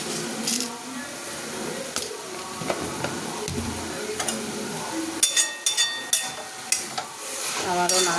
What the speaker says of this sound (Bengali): আবারও নাড়াবো।